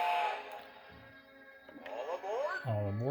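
A toy Holiday Express animated train set sounds a whistle, a wavering tooting tone that rises toward the end over a faint background hum, with a voice speaking around it.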